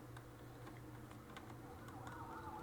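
Police car sirens arriving in the video game The Last of Us Part 1, a faint wavering wail rising in the background over a low steady hum, with light ticking sounds throughout.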